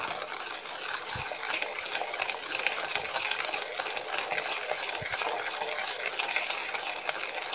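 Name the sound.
stirring chocolate drink powder and sugar in water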